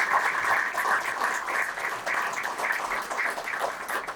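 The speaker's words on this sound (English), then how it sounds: "give her another round of applause" A lecture-hall audience gives a round of applause at the Pearl Harbor Day Lecture. The clapping is full and sustained, steady and fairly loud for the whole stretch, with no speech over it.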